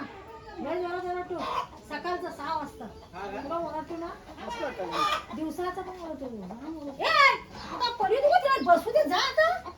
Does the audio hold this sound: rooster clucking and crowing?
yes